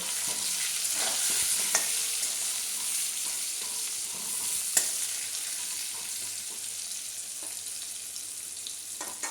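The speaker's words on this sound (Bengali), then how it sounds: "আলুগুলো এরকম লাল করে ভাজতে হবে।" Potatoes fry in a pan with turmeric and salt, prepared for a chicken curry. The sizzle is steady and close, with occasional sharp clicks from stirring and no voices.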